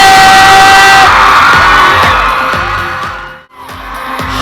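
Audience at a Thai skincare brand launch event, a loud sustained wash of cheering and screaming with rhythmic thumping music beneath, fading briefly near the end before swelling again.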